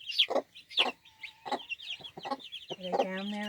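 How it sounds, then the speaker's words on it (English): Chickens clucking nearby in short separate bursts, a few sharp clucks and squawks spaced apart, ending with a longer, more drawn-out call, fairly quiet overall. "Then watch that chicken over there."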